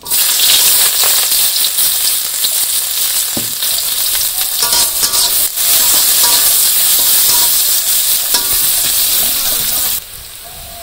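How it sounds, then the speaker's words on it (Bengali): Sliced onions sizzle and crackle loudly in hot oil in a village kitchen pan, a dense steady frying hiss with occasional stirring scrapes, easing off near the end. "তারপরে তেল দিয়ে দিলাম, পেঁয়াজ দিয়ে দিই"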